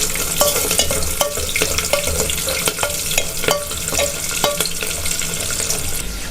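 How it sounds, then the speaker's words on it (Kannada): Finely chopped small onions frying in oil for a yogurt sambar, loud close crackling sizzle throughout with a regular series of metallic spatula taps and scrapes against the pan, no voices. "ಸಣ್ಣ ಈರುಳ್ಳಿಯನ್ನು ಚಿಕ್ಕ ಚಿಕ್ಕದಾಗಿ ಕಟ್ ಮಾಡಿ ಚೆನ್ನಾಗಿ ಎಣ್ಣೆಯಲ್ಲಿ ಫ್ರೈ ಮಾಡಿಕೊಳ್ಳಿ"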